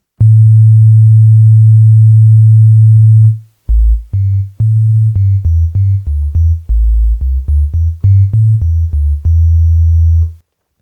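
A pure, low FM synth sine tone an octave lower holds steadily, then a run of short, clean synth notes at varying low pitches follows, loud and dry.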